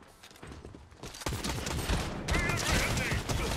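Automatic gunfire in the video game Fortnite, played on Xbox Series S, with rapid bursts of shots that grow louder and denser, sometimes overlapping with game effects and a voice talking.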